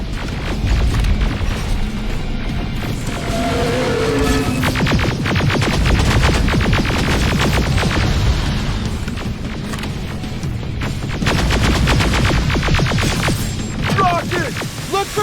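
Gunfire aimed at a Terminator robot in the video game Terminator Resistance, rapid repeated shots and heavy booming impacts over a loud, dense mechanical rumble that runs throughout.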